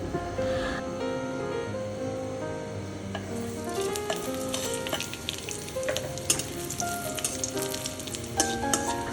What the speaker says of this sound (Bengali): আমি একটা ফ্রাই প্যান বসিয়ে দিয়েছি আর এখানে আমি এক টেবিল পরিমাণে আমি তেল নিয়েছি প্রথমে আমি শুকনো মরিচ দিয়ে দেব